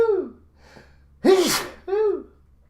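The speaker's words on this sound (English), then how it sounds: "Hold on, I got to sneeze." A single loud human sneeze, preceded by a couple of sharp inhaling gasps and followed by a short breathy exhale, close to the microphone in a quiet room.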